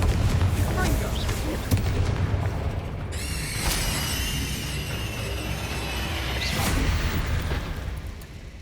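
Repeated booming Confringo fire-spell blasts in the video game Hogwarts Legacy, loud bursts over a dense rumbling battle backdrop with a bright crackling swell mid-way.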